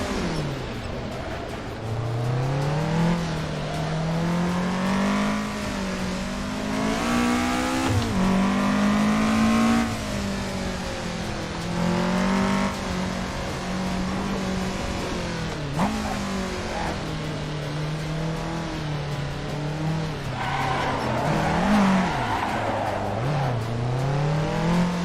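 A car drifts in the Assetto Corsa racing game, its engine droning loudly and continuously for the whole stretch, with the pitch rising and falling as the throttle is worked and tires squealing at times.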